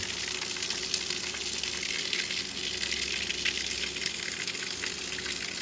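Water gushes steadily from a Master brand water pump outlet, a continuous loud hissing rush that holds an even level throughout, with no voices.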